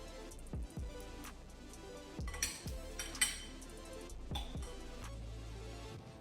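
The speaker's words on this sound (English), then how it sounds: "So go ahead and just mix your shrimp in the sauce" Shrimp being stirred into a pan of simmering pasta sauce: a utensil clinks and scrapes against the metal pan in several sharp knocks, with soft stirring between them, close and fairly quiet.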